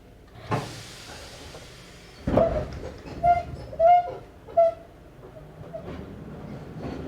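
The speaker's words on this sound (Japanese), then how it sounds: "ドアが閉まります。" Doors on an Izuhakone Railway 3000 series train closing at a station stop, heard as a sharp thump of the doors shutting, followed by a few short chime-like tones and a soft hiss against the low interior hum.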